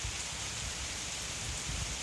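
Rain falls steadily on a cold, windy fall day, making a constant soft hiss that stays even throughout, with no other sounds over it.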